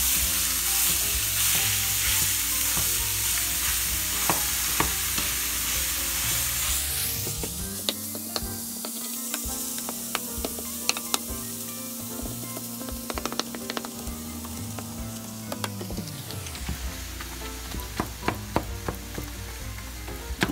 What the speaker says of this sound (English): every time you're cooking meat, you want to start off with a hot pan